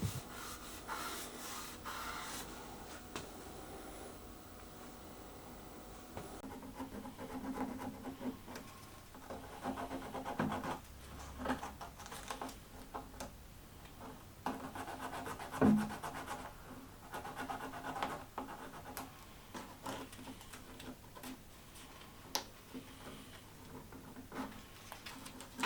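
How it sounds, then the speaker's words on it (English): A wooden pie crust tabletop being rubbed over with white spirit, soft continuous scratchy rubbing with faint ticks and occasional louder knocks, quiet and close. "I gave the table a quick rub over with white spirit to check what the finish would look like"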